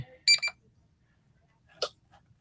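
A writing-sprint countdown timer goes off with a short, bright electronic beeping burst, followed after a pause by one more brief chirp, in an otherwise quiet room.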